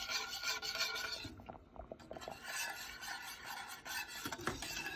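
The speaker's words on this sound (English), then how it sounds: "I'm going to continue to stir it until it gets thick and starts to bubble." A spoon scraping and rubbing around a pot while egg-thickened spinach soup is stirred, a steady rasping texture with irregular strokes, close and fairly quiet.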